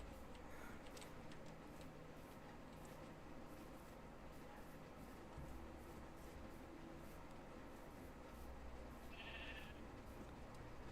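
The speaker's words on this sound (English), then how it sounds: "Hey, sheeps." Sheep bleat in Minecraft: a few short, faint synthetic baa calls rise over a low, steady game ambience, with one clearer bleat near the end.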